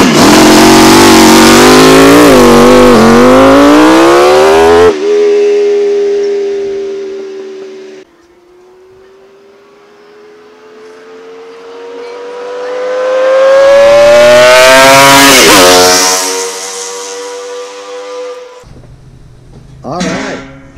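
Allen Millyard's 1250 cc Kawasaki five-cylinder two-stroke motorcycle engine on a dyno, loud and close, revving hard with rising pitch, dropping to a lower drone, climbing again to a screaming peak, then cutting off abruptly.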